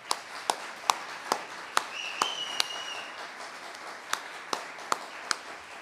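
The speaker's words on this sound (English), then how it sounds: "Art Koo, round of applause," A small audience applauds pianist Art Khu, a soft, distant patter of light applause punctuated by a few crisp, isolated claps standing out at a steady pace.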